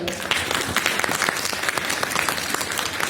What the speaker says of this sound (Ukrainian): ми дуже тепло вас будемо зустрічати от такими бурхливими оплесками